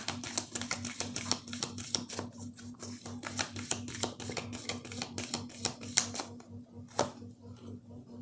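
Tarot cards being shuffled by hand: a dense run of crisp, papery clicks and riffling flutters, fairly close and steady, fading toward the end with one sharp snap near the close.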